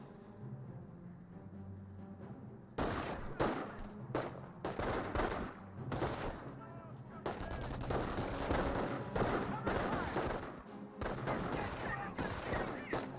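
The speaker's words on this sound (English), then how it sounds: "we're taking fire" Battlefield gunfire in the Company of Heroes real-time strategy video game: after a quieter lead-in, bursts of machine-gun fire and scattered shots crackle in rapid, dense clusters, loud and sustained, with battle noise layered beneath.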